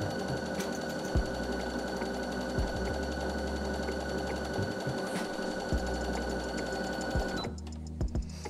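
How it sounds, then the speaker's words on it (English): A beginner's sewing machine runs a stretch straight stitch, a steady close mechanical whirr with rapid rhythmic needle clatter, pausing briefly near the end before a few more stitches, with no voice. "I'm going to choose a stretch straight stitch, which on this machine is number 10."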